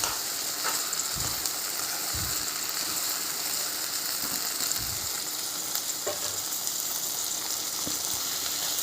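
Food frying in a pan gives a steady, fairly faint sizzle with a few soft crackles and stirring taps, heard alone without talk.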